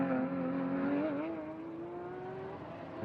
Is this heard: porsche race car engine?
yes